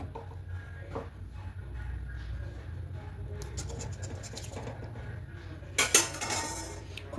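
A spoon scraping and clinking against a pan while chicken curry is mixed with ghee off the heat: soft repeated scratches over a low hum, with a sharper metallic clatter near the end, close by and without talk.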